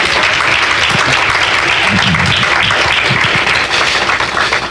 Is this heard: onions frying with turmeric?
no